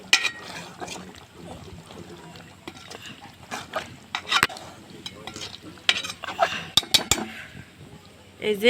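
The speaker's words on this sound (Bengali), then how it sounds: "এদিকে আমি দুয়ে রাখা মাছগুলো দিয়ে দিচ্ছি" Washed fish go into a hot pan and are stirred, giving a low sizzle under repeated clinks and scrapes of a utensil against the metal, with sharper knocks now and then.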